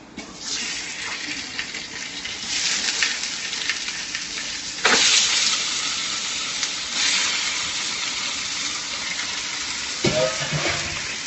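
Chicken pieces frying and being stirred in a hot pan, with a steady sizzle, scraping stirs and a couple of sharper clatters as the pieces are moved around.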